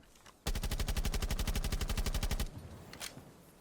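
Loud rapid-fire automatic gunfire from a weapon in Rainbow Six Siege on console: a steady burst of about two seconds of evenly spaced shots that cuts off abruptly, leaving faint ambient noise and one brief later report.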